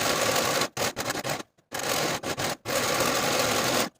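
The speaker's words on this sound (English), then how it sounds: "Now using a zigzag stitch or your serger, we're going to finish the outer edges of the facing all the way around." A serger or sewing machine runs in fast, loud stitching bursts while zigzag-finishing the outer edges of a linen jacket facing, stopping briefly several times between runs.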